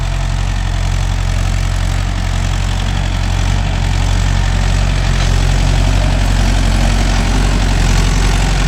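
A Mahindra Yuvo Tech Plus 585 4WD shuttle-gear tractor engine runs steadily in a field with a 9-tine cultivator, giving a loud, continuous low diesel rumble with a constant vibrating drone and no talk.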